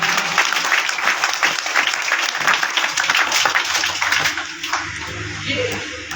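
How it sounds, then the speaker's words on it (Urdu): An audience at a school's annual results ceremony applauds a child receiving a medal; dense clapping fills the room, then thins and fades toward the end with low background murmur. "تالیاں ہو جائے اس بچے کے لیے"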